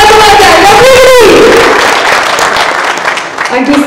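An audience at a Nikon Z6 and Z7 camera launch event in India applauds loudly and close by, a dense wash of clapping under a voice that carries over the top.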